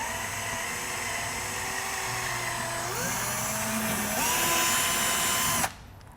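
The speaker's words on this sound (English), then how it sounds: "we're just going to use an 1/8 inch drill bit, go into the center of our rivet" A power drill with a 1/8-inch bit whines steadily as it bores out metal rivets on a 2015 BMW X5, the pitch rising twice as it bites, then stopping abruptly near the end.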